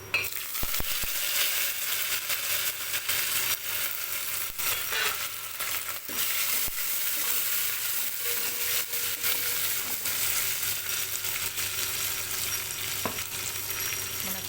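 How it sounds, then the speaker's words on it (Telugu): Steady sizzling of coriander and curry leaves frying in hot oil for a tempering, a continuous crackle with occasional stirring clinks, close and fairly loud, no voices. "తాలింపు అయితే వేగిపోయిందండి"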